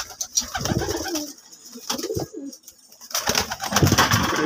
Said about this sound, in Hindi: रेसर कबूतर है माशाल्लाह